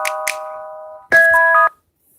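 A telephone rings in two electronic bursts, each a steady chiming tone, close and loud, with a short gap and silence after.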